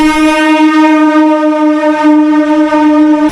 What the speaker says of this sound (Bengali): কর্ণগর স্টেশনের 3 নম্বর প্ল্যাটফর্মে এখন চলে এলো কাটোয়া লোকাল।